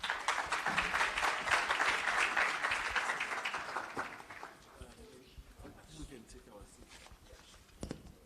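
An audience at an education summit applauds a panel, dense sustained clapping for about four seconds that then fades out, leaving a few scattered claps and faint murmuring.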